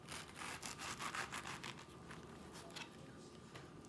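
A knife saws through a halved pineapple to cut out the core in a V, giving a rough, rhythmic rasping cut with repeated short strokes, close and fairly quiet.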